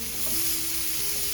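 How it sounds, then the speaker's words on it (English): Sausage starts sizzling in a pan, a steady close hiss and crackle with a faint hum underneath, continuous and fairly loud with no talking. "I'm gonna go ahead and start my sausage."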